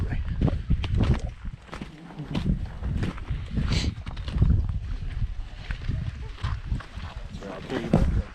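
Footsteps crunching through dry desert brush on a canyon hike, irregular scuffs and rustles close by with a person talking intermittently over them.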